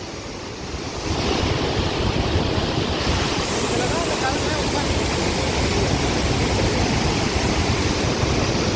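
Steady, loud roar of rushing water pouring continuously over a lake weir, broad and unbroken like a spillway in full flow, at Madurantakam Lake.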